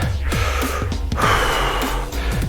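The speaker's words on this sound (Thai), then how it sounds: "หายใจเข้าลึกนะครับ" A person catches their breath between sets of jumping jacks, taking a loud, close inhale and exhale over a steady background hum, with no talk.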